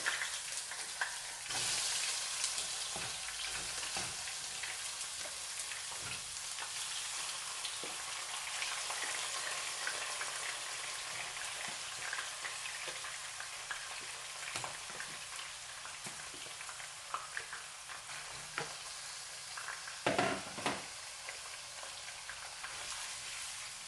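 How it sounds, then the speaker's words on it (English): Oxtail frying in a pan gives a steady, close sizzle throughout, with occasional louder pops and stirring noises over the constant crackle. "So I'm gonna fry up the oxtail."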